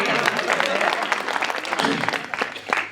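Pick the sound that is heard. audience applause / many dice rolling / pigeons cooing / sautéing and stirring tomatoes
audience applause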